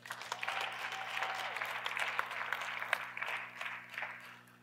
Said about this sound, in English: just clap real loud right here